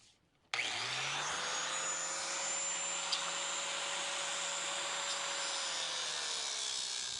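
A power cutting tool slices an old jack off a tractor during a repair, starting abruptly and then holding one continuous, even, high whine for several seconds close by.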